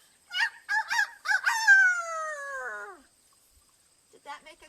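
A voice imitates a rooster crowing during a storytime fable, with several short rising syllables leading into a long drawn-out wavering cry that trails off, then a brief bit of speech.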